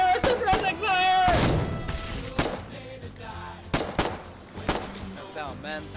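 Gunfire from a war video game, with sharp close shots and scattered bursts amid a crash and battle noise, while voices shout over it.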